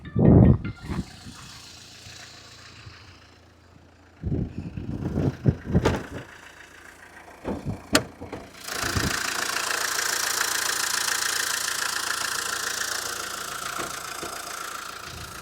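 A used car's engine, for sale in Gudivada, Krishna district, starts with clatter, revs in sharp bursts, then settles into a steady close idle with no talk.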